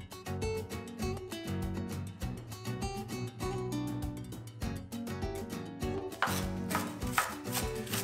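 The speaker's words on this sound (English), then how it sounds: "I'm cutting some serrano peppers" Rapid knife chopping of serrano peppers on a cutting board, a dense run of quick sharp taps at close range with brief pauses, growing brisker near the end, with no talking.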